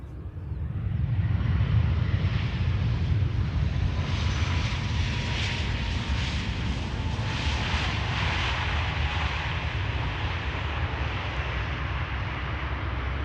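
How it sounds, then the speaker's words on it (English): An EasyJet airliner arriving from Geneva at Amsterdam Schiphol Airport, a sustained jet engine roar that rises quickly and holds steady while the plane passes at moderate distance. "That was EasyJet arrived from Geneva."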